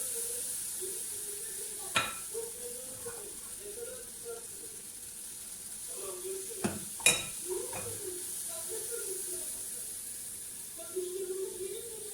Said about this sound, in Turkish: pişirmeye başladım arkadaşlar cızlamalarımı